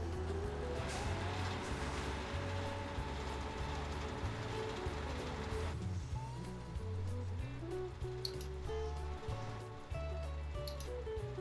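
A beet harvester at work in Farming Simulator 15 hums with a steady mechanical drone and rhythmic low pulsing, loud and close, with a brief shift in tone midway and faint clicks later, no talking.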